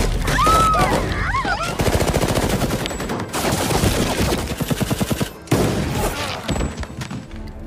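Rapid bursts of automatic gunfire and repeated shots in a film, loud and close, with booming thuds and brief pauses between volleys.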